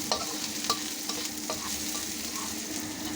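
Red onion and garlic sizzle and fry steadily in a pan for okra with sardines, with a few sharp utensil scrapes and clicks from stirring over the constant crackle; no talking.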